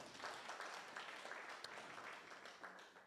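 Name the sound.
audience applause for sponsors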